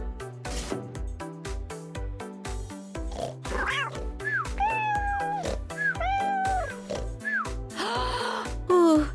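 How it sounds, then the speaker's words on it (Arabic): An animated cat meows repeatedly in a cartoon scene, several bright, close, drawn-out meows rising and falling over a loud, steady rhythmic music track. "قطة شقية"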